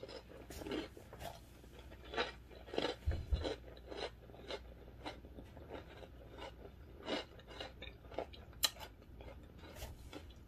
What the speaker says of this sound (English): this has a really, really good crunch to it